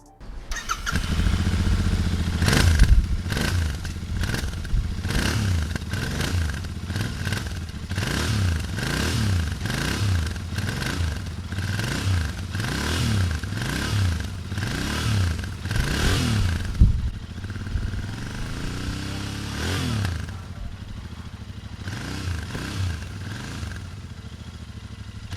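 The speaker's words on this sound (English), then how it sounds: "yung dual exhaust na bruskong-brusko yung tunog with its very low but loud rumble. So let's listen to the sound." A Royal Enfield Interceptor 650 with dual exhaust idles and is revved repeatedly, giving a loud, close, deep rumble with rhythmic rises and falls in pitch before settling back to a steadier idle near the end.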